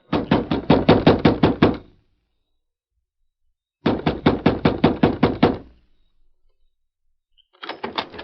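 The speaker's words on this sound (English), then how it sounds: "the door of the sheriff's home echoed with a loud knock" Loud knocking on a door at a sheriff's home late at night in a 1943 radio western drama: three bursts of rapid, evenly spaced raps with silent gaps between, close and alone.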